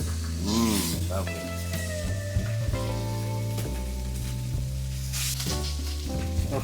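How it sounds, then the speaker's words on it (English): Chicken sizzles steadily in a hot pan over low heat without oil, a constant frying hiss running beneath music and voices. "that chicken has been sizzling there on a low heat for about 6-7 minutes now"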